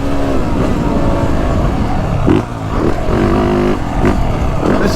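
A 2023 Yamaha YZ450F dirt bike ridden on a motocross track, its engine roaring loud and steady with a brief dip and revs as the throttle changes, close and continuous.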